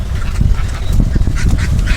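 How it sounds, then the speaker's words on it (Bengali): Khaki Campbell and common ducks in a village yard quack loudly and close up, with overlapping calls running continuously and no talking. "3টি রানী হাঁস, 1টি পাতি হাঁস"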